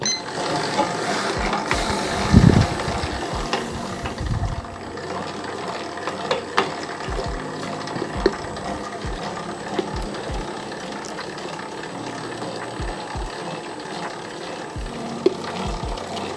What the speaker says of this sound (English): I don't know if it needs to be going so quick now, the mixer.